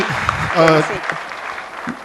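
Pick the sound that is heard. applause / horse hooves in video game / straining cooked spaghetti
applause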